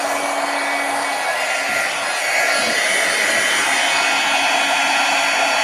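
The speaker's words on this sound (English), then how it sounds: "Should emboss pretty quickly because the gun is still pretty hot." A heat embossing gun, already hot, blows a steady loud rush of hot air over a stamped card, an unbroken airy roar that swells slightly partway through.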